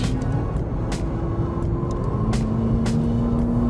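A McLaren 650S sports car driving with the top down in cool weather, its engine a steady, loud drone with a sustained rising tone and some wind noise throughout.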